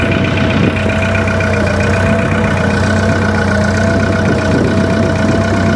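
An old diesel tractor with a fuel-supply problem idles steadily and close by, a constant low clattering drone with a knocking edge and no talk.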